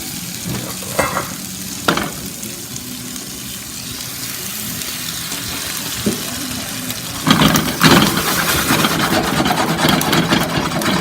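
Pear pieces simmer in a buttery Alfredo sauce flecked with tarragon in a pan: a constant close hiss of sizzling with a few scraping stirs, growing louder and busier toward the end, no talking.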